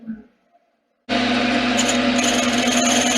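Spindle gouge cutting wood on a lathe starts abruptly after a near-silent pause, a loud steady whirring, scraping drone that continues unbroken to the end.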